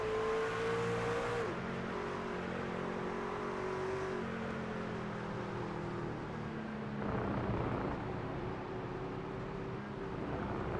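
A racing truck engine drones loudly at steady revs in second gear on the iRacing Circuit of the Americas, its pitch sagging then rising again, with a brief burst of another vehicle passing near the end and no talk over it.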